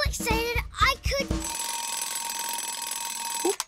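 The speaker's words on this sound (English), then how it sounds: "Oh, there goes my alarm." An alarm clock rings in a steady, loud electronic trill for about two seconds after a voice speaks, then cuts off abruptly.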